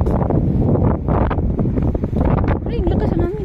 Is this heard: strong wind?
yes